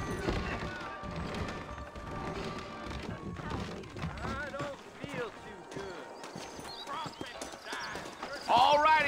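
Horses clip-clop at a trot in the Western video game Red Dead Redemption, a steady hoof rhythm under ongoing talk, with a whinny and some louder knocks toward the end.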